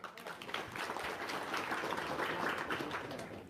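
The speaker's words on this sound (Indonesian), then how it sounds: "Tepuk tangan dulu dong." Fairly quiet applause from a seated audience at a motivational seminar, a soft wash of clapping heard from a distance for a few seconds.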